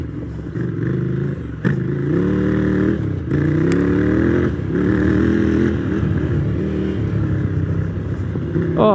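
A personal motorcycle ridden on a scrambly dirt section, its engine loud and close, revving up and down in rising and falling pulls with clattering from the rough ground, with no pauses.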